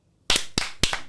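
A person claps three times in a quick, uneven rhythm, each clap sharp and loud against a quiet room.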